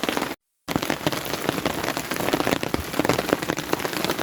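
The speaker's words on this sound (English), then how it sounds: "it's fighting against the rain" Torrential rain hammers a wild campsite with a thin, struggling fire, a loud, unbroken wash of drops spattering nearby surfaces, broken only by a brief moment of silence near the start.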